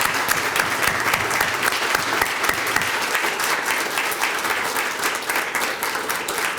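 Sustained, dense applause from a large crowd at a College of Law graduation ceremony in Nunavut, steady and loud throughout with no talking over it.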